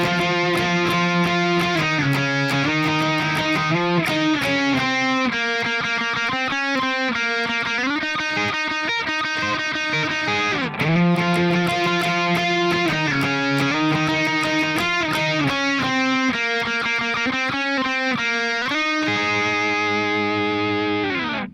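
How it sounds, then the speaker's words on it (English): A distorted electric guitar plays the solo from a song at a slow tempo, with steady picked notes and octave lines. It runs continuously and loudly for over twenty seconds, with no voices. "So the guitar solo is going to sound like this."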